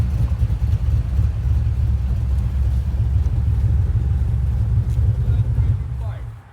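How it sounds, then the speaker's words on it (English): A street car's engine idles with a lumpy cam, giving a loud, continuous, choppy low rumble that holds steady and then fades at the end, with voices talking over it. "we're going to have to start it up one more time. Listen to that cam."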